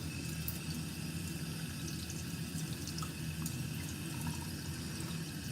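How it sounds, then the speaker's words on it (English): Tap water running steadily in a darkroom sink, a constant broadband wash with faint drips, no voices. "Let's just run some water on it"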